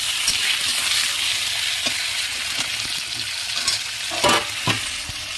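Rohu fish frying in a pan for a village-style fish curry with spinach, a steady close sizzle with occasional scrapes and stirring clicks, no talk.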